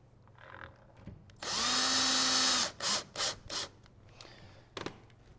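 Short whirring bursts of a power screwdriver driving screws to mount a car CD player, its faceplate plastic: one sustained run of about a second, then three quick pulses and a faint final blip, close and fairly loud.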